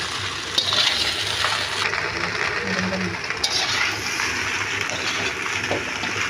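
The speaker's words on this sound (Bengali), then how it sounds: "এখানে আমি সিরকা, সয়া সস, টমেটো সস, গোলমরিচ, রান্না করা মাংস ঢেলে দিব" Vinegar, soy sauce, tomato sauce and cooked meat poured into a pan for chowmein, a steady close gushing and splashing of liquid that runs on without a break.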